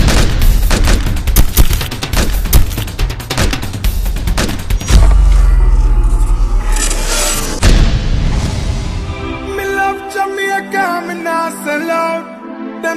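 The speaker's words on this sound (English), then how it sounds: "Shots fired at Church and Troy Avenue." Gunfire in a crime film shootout: dense, loud bursts of rapid shots and booming impacts crowd the first half, then give way to ringing tones and fading echoes.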